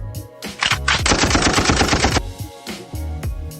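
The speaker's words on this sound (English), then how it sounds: "And then we have gunshot." A rapid burst of automatic gunfire rattles out loudly for about a second, framed by a few single heavy shots before and after.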